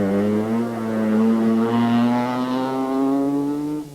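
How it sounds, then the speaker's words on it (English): A Mazda 323 rally car fitted with a 12A rotary engine, on a forest rallysprint stage in 1984, holds a loud, smooth, buzzing engine note that climbs slowly in pitch and stays close throughout. "Mazda 323 with the 12A rotary engine stuck in it"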